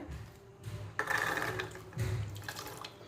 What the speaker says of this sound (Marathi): ते पाणी पण टाकून घ्यायचं